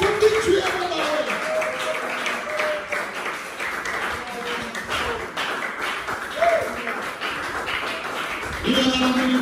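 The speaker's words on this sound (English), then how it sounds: "Clap it up for victory, everybody." A congregation at a worship service at the Apostolic Worship Centre claps in steady rhythm, the clapping mixed with voices and rising in fullness toward the end.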